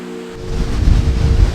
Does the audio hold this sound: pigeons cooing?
no